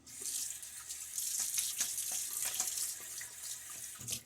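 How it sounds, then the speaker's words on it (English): Water runs steadily from a tap into a sink during a shave rinse, with small splashes and drips breaking through the continuous hiss; no one speaks. "we'll just barely splash on some water there, not really do much of a rinse at all"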